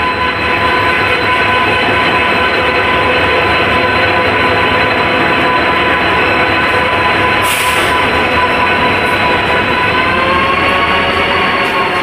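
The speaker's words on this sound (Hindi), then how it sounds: "29 मिनट पहले डिपार्चर से हमारी ट्रेन को लगाया जा रहा है" The Howrah Barbil Jan Shatabdi Express rolls slowly into the platform with a loud, continuous rumble and grinding of wheels and carriages, plus a brief high squeal partway through.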